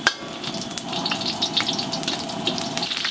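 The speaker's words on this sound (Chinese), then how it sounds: "咱起锅烧油啊，准备炒料了。" Scallion pieces, dried chilies and bean paste frying in hot oil in a wok, a soft steady sizzle and crackle with a few small pops, fairly quiet and close, with no voices.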